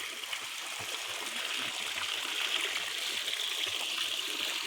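Spring water flowing steadily into a cold spring pool at an eco farm on a mountain, a continuous broadband rushing and trickling wash, close and even, with no talk.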